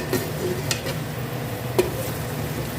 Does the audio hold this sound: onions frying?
yes